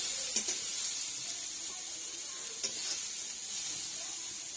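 Chopped onion and chili frying in a pan with crushed peanuts and garlic give a steady close sizzle, with a few soft stirring scrapes and clinks along the way.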